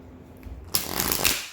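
Tarot cards are riffle-shuffled in one quick burst of rapid crisp flutters, close by, after a brief quiet moment.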